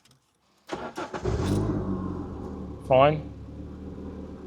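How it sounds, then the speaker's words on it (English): A Renault Clio 182 track car cranks and fires after a moment of quiet, then settles into a rough, uneven lumpy idle with a brief rev, while someone speaks briefly nearby. "let me demonstrate this lumpy idle for you"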